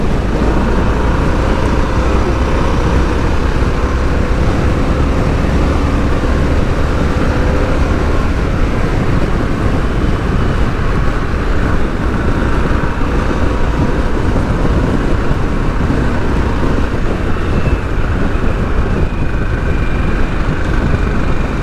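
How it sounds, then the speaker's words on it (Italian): Steady, loud engine drone and wind rush of a 2021 Harley-Davidson Sportster S motorcycle being ridden, continuous with no pauses and no voices. "Gran bel motore, gran bel motore."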